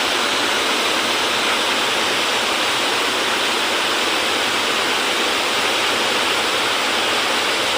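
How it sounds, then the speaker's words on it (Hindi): A waterfall roars in a steady, loud, unbroken wash of noise, with no voices over it. "आपने नीचे वाटरफॉल देखो"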